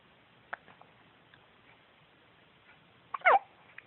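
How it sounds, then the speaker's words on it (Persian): A sleeping baby girl hiccups softly once at the start, then a sharper, louder hiccup or two near the end, with quiet room hush between. "دیگه حوصله نداره انقدر سکسکه."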